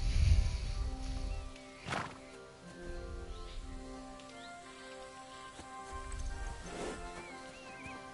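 Grey horse in a video game, snorting and blowing in a few short bursts with soft movement sounds between them, close and fairly quiet over a low musical background.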